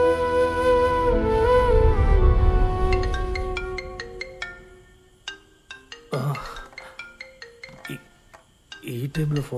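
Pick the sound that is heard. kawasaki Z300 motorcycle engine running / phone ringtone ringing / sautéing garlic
phone ringtone ringing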